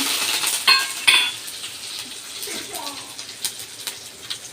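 Crackling sizzle of small tempering spices hitting hot oil for chutney, with a few metallic clinks of a spoon against the pan near the start.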